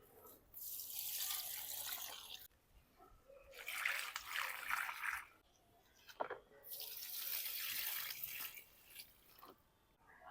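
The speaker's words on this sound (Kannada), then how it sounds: "ಗಿಡಗಳು ಒಣಗ್ತಿದೆ, ಸ್ವಲ್ಪ ನೀರು ಹಾಕಿಬಿಡೋಣ." Water pours onto drying garden plants from a drum supply in three long rushing bursts separated by brief pauses, close and fairly soft, splashing and trickling with no talk.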